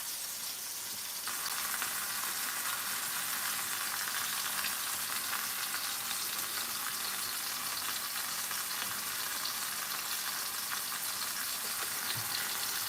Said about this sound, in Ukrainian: Смажу відбивні, але трошки буду їх протушувати, тому що м'ясо Е, свинина.